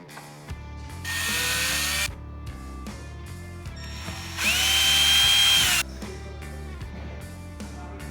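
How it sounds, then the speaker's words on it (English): A power drill drives screws into the rail system of a hard folding tonneau cover on a RAM truck bed, in two loud whirring bursts of about a second each, with ratcheting clicks and handling noise between them. "Now we're gonna be installing the screws that attach the tonneau cover to the rail system."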